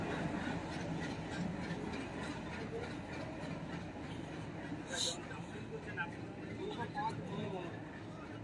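A WDM 3D diesel locomotive train rolling past on the Nasipur rail bridge, a steady broad rumble with rhythmic wheel clatter from a moderate distance, with a person talking over it.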